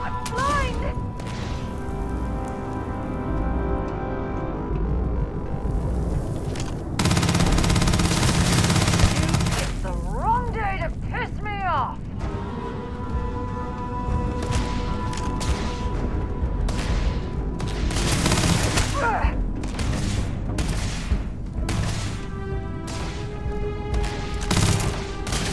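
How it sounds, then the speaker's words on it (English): A companion firing a gun in the video game Starfield: bursts of gunfire and sharp rapid shots mixed with mechanical clatter and booms, with a voice talking at times. "My god, she's actually firing."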